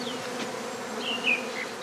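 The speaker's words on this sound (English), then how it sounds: "The bees are clustering now on this branch of a tree." A swarm of honey bees clusters on a tree branch during old-fashioned basket beekeeping, a dense close buzzing drone with individual bees whining past, no voices.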